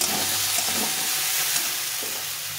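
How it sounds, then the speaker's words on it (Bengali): Soya chunks fry gently in a pan on low heat, giving a steady, soft sizzling hiss throughout with no talking. "একদম লো হিটে এটাকে ভেজে নিতে হবে।"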